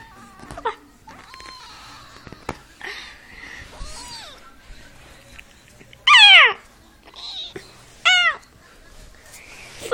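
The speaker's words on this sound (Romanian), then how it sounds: "ne-am întors cu o pisică nouă și mică. Da, e pisică." A tiny two-week-old kitten gives several high, thin meows and wails, with two loud, sharply rising cries standing out near the end, set against a quiet indoor background.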